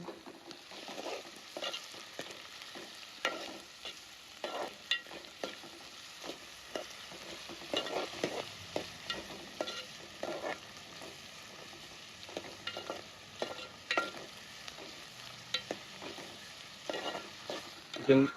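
Sliced onions with a pinch of salt frying in a pan, a steady sizzle broken by repeated scraping stirs at an uneven rhythm, close and moderately loud with no voices.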